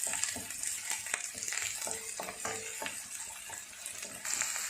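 Onion softening in a pan for pasta, giving a steady close sizzle and crackle with occasional stirring scrapes, fairly quiet and continuous.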